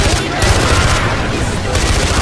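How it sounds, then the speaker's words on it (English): Rapid automatic gunfire in Far Cry 4 from a gun mounted under a vehicle's dashboard, loud and continuous bursts with rumbling engine and combat noise throughout. "There's a gun underneath the dashboard!"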